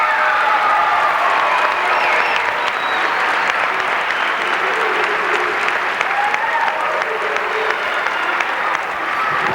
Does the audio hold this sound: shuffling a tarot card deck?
no